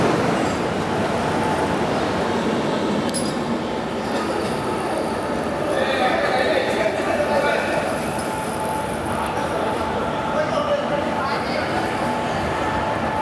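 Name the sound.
Hazur Sahib Nanded Santragachi SF Express train at Chakradharpur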